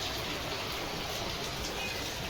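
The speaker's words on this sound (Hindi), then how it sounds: "इतनी तेज़ हो रही है बारिश और बहुत अच्छी वाली बारिश हो रही है" Heavy slanting rain falls steadily during a sunny shower, a dense, even hiss of drops on surfaces that holds constant and close throughout with no voices.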